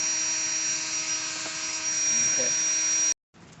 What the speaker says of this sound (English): When I hollow them out, when I do the insides, I use this 107 Dremel.